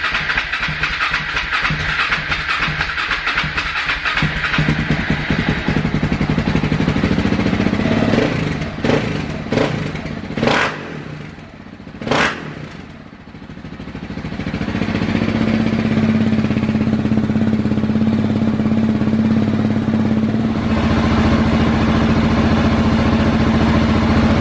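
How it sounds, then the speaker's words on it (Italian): A KTM 690 SMC single-cylinder motorcycle fitted with an Akrapovic exhaust fires up and settles into a loud, steady idle, with a couple of sharp throttle blips midway before the even rumble resumes, close to the microphone. "adesso andiamo ad accendere la moto e sentite che sound"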